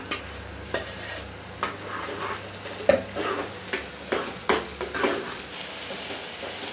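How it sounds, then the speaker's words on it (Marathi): Green masala paste sizzling in hot oil with browned onions, a continuous fry hiss broken by several soft scraping stirs of a spoon, close and clear with no talk. "इथे आता आपण हिरवं वाटण टाकूया."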